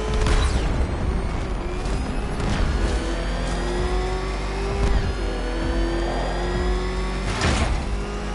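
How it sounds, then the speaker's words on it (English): A car engine revving and accelerating in a PS4 video game, loud and close, with repeated rising whines and gear shifts over a constant low rumble, with no talk. "Can that ramshackle motor handle this?"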